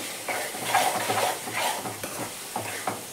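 Cut tomatoes and salt being stirred in a pan for a green chilli paste and broad bean curry: repeated close scraping strokes of a utensil over a soft sizzle, in an uneven rhythm.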